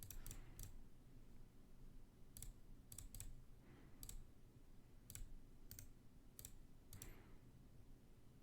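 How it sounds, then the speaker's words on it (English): Mouse clicks while playing the puzzle game DungeonSweeper, about a dozen crisp single and double clicks spaced irregularly over a quiet steady background hum, with no talking. "So let's just go ahead and keep clicking stuff."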